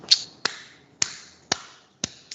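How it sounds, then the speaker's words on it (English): Five sharp hand claps at an even, steady pace, roughly half a second apart, with a sixth fainter clap at the end, crisp and close with short decays and no talking. "Hand clap."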